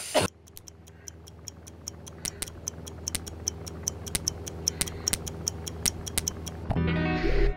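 Bomb timer in the VR game I Expect You to Die ticks steadily and evenly at a moderate level over low mechanical hum, stopping with a louder rustle near the end.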